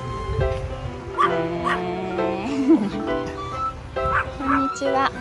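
Dogs at a dog run's large-dog area in Nara give several short barks, yips and whimpers close by, mixed with people talking.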